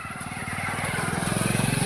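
Motorcycle engine running steadily close by, a continuous low throbbing drone with rhythmic pulsing that grows slightly louder toward the end, no talking.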